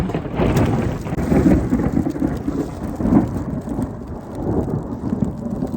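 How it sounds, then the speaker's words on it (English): Thunder rumbles loudly through a heavy rainstorm on a mountain trail toward San Bernardino Peak, a deep rolling crack over constant close rain patter and wind. "That was a good crack of thunder."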